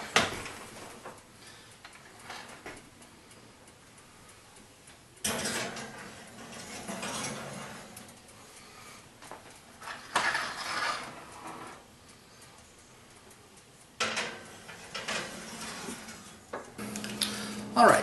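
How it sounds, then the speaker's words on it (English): Homemade pumpkin pies slid into an oven preheated to 425 degrees, with faint metallic clanks of the rack and pans, a few louder bursts of handling noise between quieter stretches. "now we're going to place them in the oven at 425 degrees"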